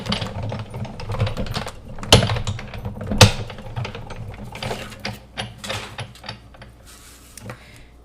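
A die-cutting machine cranks card through with a sequence of close, uneven mechanical clicks, ratcheting and gear noises, plus a few louder clunks along the way.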